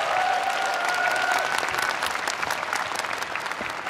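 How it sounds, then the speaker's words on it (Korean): A crowd at a WIBA light flyweight world title boxing fight applauds a fighter, sustained dense clapping from many hands at a fairly loud, even level, with faint tones briefly ringing beneath the noise early on. "많은 응원의 박수를 받고 있는 홍소연 선수고요"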